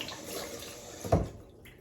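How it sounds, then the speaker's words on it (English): Cool tap water runs steadily for a face rinse after shaving, a soft continuous splash with one brief louder splash near the middle. "wash it off with coolish water"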